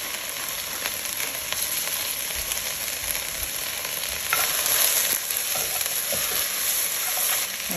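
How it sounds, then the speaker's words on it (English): Carrots fry with corned beef brisket in a pot, giving a continuous crackling sizzle with scattered pops and stirring scrapes that grows louder around the middle, with no talking. "All right, I'm gonna put in the carrots."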